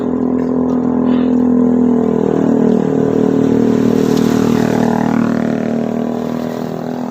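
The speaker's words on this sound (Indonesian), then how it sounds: "Ini knalpotnya berisik banget ini." Loud, noisy aftermarket motorcycle exhaust on a rural village road at night, revving with a steady drone that swells and slowly fades as the bike passes nearby.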